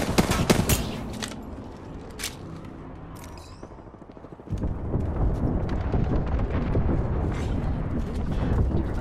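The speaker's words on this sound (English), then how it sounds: "Launching me knuckle cluster. Stand back. Knuckle cluster's firing." Apex Legends knuckle cluster launching with sharp bursts, then from midway a dense, continuous crackle of rapid explosive fire that holds loud and close to the end.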